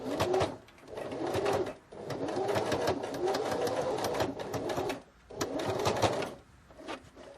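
Sewing machine stitching the fabric drawstring tunnels of a laundry bag about 3 mm from the inner edge, close and steady in three long runs separated by brief pauses.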